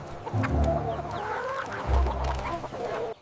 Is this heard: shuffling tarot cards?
no